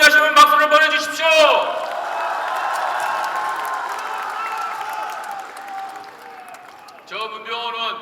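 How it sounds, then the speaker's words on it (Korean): An audience at a party delegates' convention claps in a moderate, sustained burst after a man's speech, which resumes near the end. "여러분 동의하시면 박수를 보내주십시오"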